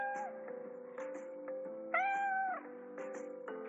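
A cat meows repeatedly up close, a string of short calls and one longer, rising wail, with no other sound around it.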